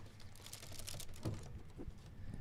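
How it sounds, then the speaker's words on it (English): Plastic LEGO bricks snapping and clicking together while building a Pikachu model, a close run of small sharp clicks and rattles with a few louder snaps, no talking. "We want the Lego clicking sounds."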